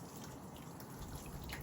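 Water dripping and trickling steadily from a freshly rinsed dog's coat as it is squeezed out by hand, a soft continuous patter at close range with no talking.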